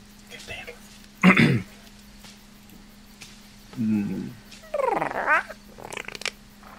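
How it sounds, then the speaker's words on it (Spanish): A creature makes dog- or gecko-like noises: a few short raspy growls and chirps in separate bursts over a low steady hum, with a voice talking between them. "Sonidos de gecko, de criatura"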